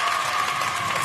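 A French television studio audience keeps clapping in a dense, even burst, brief and fairly loud, with some mixed crowd noise beneath and no clear speech.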